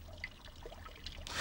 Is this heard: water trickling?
yes